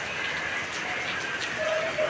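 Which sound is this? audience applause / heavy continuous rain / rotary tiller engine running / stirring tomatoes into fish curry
heavy continuous rain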